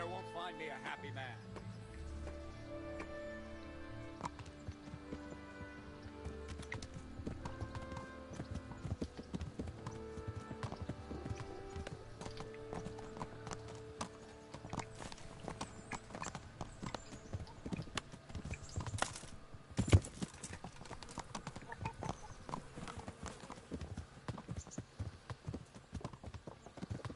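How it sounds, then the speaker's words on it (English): Horse hooves clip-clop steadily in the medieval role-playing game Kingdom Come: Deliverance, a continuous rhythmic trot over about half a minute beneath layered game music and ambience. "I can't believe I have a horse now."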